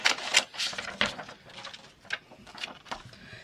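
Fabric scissors cutting paper at a crafting desk for journal ephemera, a run of close, crisp snipping and rustling strokes at an uneven rhythm, quiet and alone.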